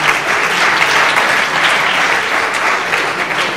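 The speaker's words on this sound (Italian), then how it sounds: "applauso." A live comedy audience bursts into loud, dense applause, an even roar of many hands clapping that holds steady from start to finish.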